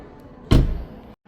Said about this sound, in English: let's shut this door and we'll go to the driver's side next